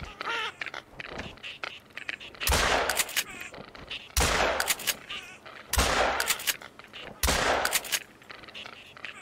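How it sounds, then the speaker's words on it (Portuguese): Volleys of shotgun blasts while hunting birds in theHunter: Call of the Wild video game, four loud bursts spaced a couple of seconds apart, with faint bird calls between them. "Acertei uns bons tiros aqui"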